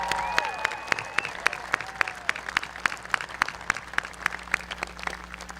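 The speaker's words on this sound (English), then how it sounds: "Let's have a round of applause for our graduates and their families" An audience at a college commencement ceremony applauds graduates and their families, sparse rhythmic clapping with a few distinct hand claps standing out over a steady indoor hum, moderately near.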